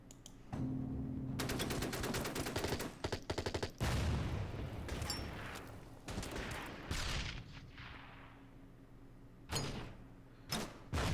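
Naval bombardment by a destroyer in the WW2 strategy game Order of Battle, rapid rattling bursts of gunfire and heavy booming impacts, loud and dense, with short pauses between volleys.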